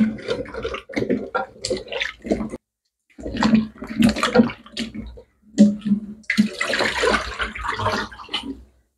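Bananas being washed by hand in water, with splashing and running-water sounds in several bursts separated by short pauses, loudest and most continuous near the end.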